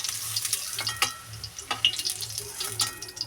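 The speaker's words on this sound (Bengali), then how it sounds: "দেখো হালকা করে একটু ভেজে নিলাম এবার তুলে নেবো বেশি ভাজবো না" Paneer cubes fry lightly in oil in a pan, giving a faint, steady sizzle with scattered small crackles and pops, with no talk over it.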